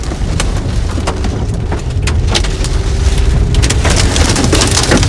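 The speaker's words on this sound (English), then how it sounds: "Big hail coming in." Hail and heavy rain pound down during a tornado-producing storm in South Dakota, a loud, dense, continuous clatter with sharp individual impacts and a low rumble beneath, no voices.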